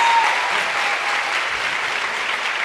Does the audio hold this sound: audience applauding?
yes